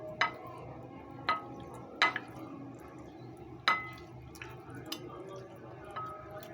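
Flattened kabab meat is mixed by hand with the leftover spices stuck to the bottom of a bowl. Scattered sharp clicks and soft wet squishes repeat irregularly over a low, quiet background, with no speech.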